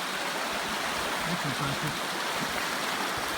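A river running high with ice rushes in a constant broadband roar, loud and close, with a man's brief remark over it.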